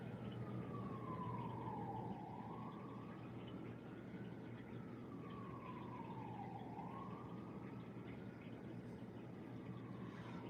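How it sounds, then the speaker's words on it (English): Faint wailing emergency sirens in Manhattan, New York City, sweeping up and down in slow repeated cycles over a steady low city hum, distant and continuous. "So you're gonna hear a lot of sirens."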